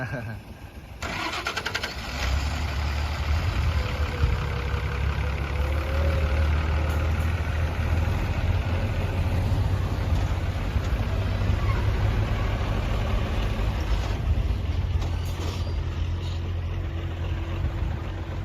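A truck fully loaded with sugarcane, leaves and grass pulls away from a cane field, its engine catching and then rumbling steadily and loudly throughout, with faint voices under the drone.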